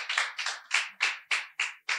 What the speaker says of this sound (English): I think she deserves a good round of applause.